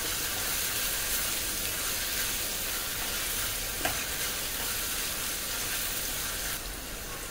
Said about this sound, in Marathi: 1 ते 2 मिनटं टोमॅटो छान आता शिजलेलं आहे, परतून घ्यायचं आणि पावडर मसाले टाकायचे।